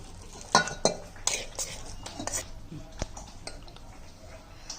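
Curd set from milk is scooped out into a large metal pot for churning butter. A few sharp metallic clinks and scrapes of a spoon against the vessel sound up close, followed by quieter stirring.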